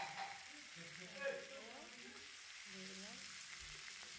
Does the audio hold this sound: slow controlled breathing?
no